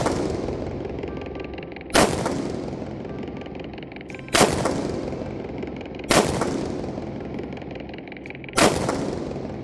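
Four loud 5.56 rifle shots fired from a tripod fitted with an RRS ball head, spaced about two seconds apart outdoors, each a sharp crack with a long rolling echo over steady background noise.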